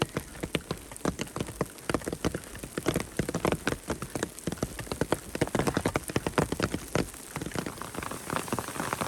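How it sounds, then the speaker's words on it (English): Hail and rain falling on an umbrella, a steady close patter of many sharp drops tapping irregularly against the fabric, fairly quiet throughout. "Alright, so now it's hailing."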